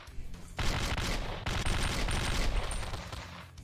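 Rapid automatic gunfire from a weapon in Slendytubbies 3 on a dark map, bursts of continuous shooting, loud and close, with a short pause in the middle.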